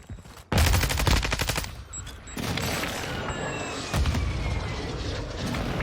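A video game firefight with close, loud bursts of rapid automatic gunfire that stop and start again, plus a sustained rumbling barrage and faint whines, and no voices.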